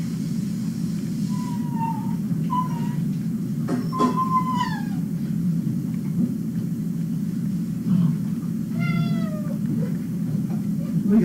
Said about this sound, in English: We got a cat over there?